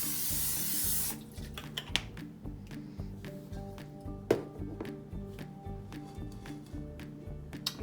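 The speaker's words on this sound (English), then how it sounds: "coat it with some nonstick cooking spray" Nonstick cooking spray hisses into a large skillet on medium-high heat in a short burst, then gives way to quiet kitchen clinks and taps, with no voices.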